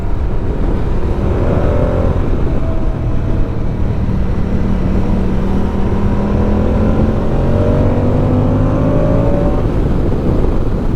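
A Moto Guzzi V100 motorcycle is ridden through a series of bends in fourth gear, its engine droning loud and close with pitch that rises and falls as the throttle opens and eases, alongside steady wind rush.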